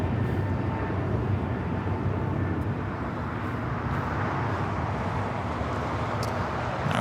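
An American Airlines A321neo takes off at LAX, its jet engines giving a loud, sustained broadband roar that stays steady from start to finish.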